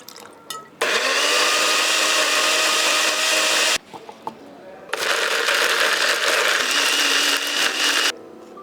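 Electric grinder or mixer pulverizing a coffee sample for a tasting session, heard as two loud, close, continuous whirring bursts of about three seconds each, separated by a short quieter pause.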